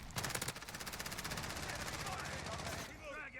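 Rapid automatic gunfire in Call of Duty, dense bursts of shots with a weapon fitted with a recoil-control attachment, loud and continuous for about three seconds before breaking off into fainter game sounds.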